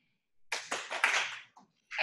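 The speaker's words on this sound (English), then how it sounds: "Can you give me 2 claps?" An audience claps on request at a Parent with PRIDE talk, giving a handful of sharp, close, separate claps in an uneven sequence, with a short gap near the end before one more burst starts.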